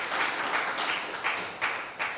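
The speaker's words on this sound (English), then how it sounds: "That should cause some applause." Audience applause at a press conference for a music festival, a steady wash of clapping that swells in several bursts over about two seconds, fairly close and with no talking over it.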